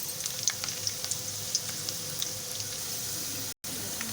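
Chopped garlic fries lightly in oil in a pan, a steady soft sizzle with faint crackles throughout and a brief cut near the end, quiet and close with no talk.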